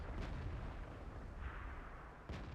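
Tank cannon fire in a World of Tanks-style battle involving a T-43 and StuG IV, a low muffled boom rumbling under continuous engine and battlefield noise, with a few dull blasts spaced across the moment.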